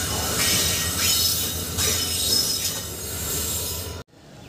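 A passenger express train hauled by a WDP4D diesel locomotive rumbles loudly and steadily nearby, with rushing wheel noise and faint squeals, before cutting off abruptly near the end.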